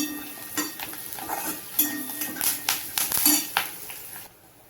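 Curry leaves and onion sautéing in a pan for a village-style mutton curry, with a spoon scraping and clinking against the metal in irregular strokes over a soft sizzle, close and fairly quiet, no voices.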